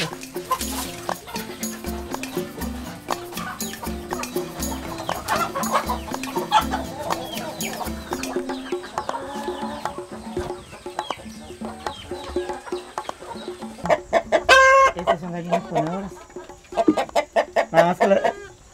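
Chickens cluck and fuss steadily in a henhouse where hens are kept with their roosters, the calls layered and close, with a brief louder burst of squawking or crowing near the end.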